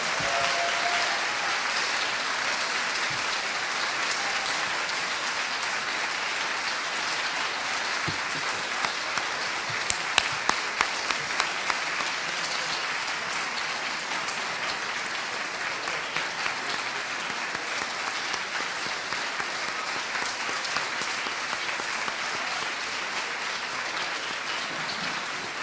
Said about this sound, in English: Please welcome him with a big applause.